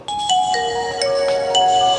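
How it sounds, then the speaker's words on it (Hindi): Nokia mobile phone ringtone, a bright electronic melody of clear, tonal notes stepping up and down in a steady rhythm, loud and close, with no voices. "इस टोन को सुनने से ही पता चल जाता है कि नोकिया ब्रांड का ये टोन है"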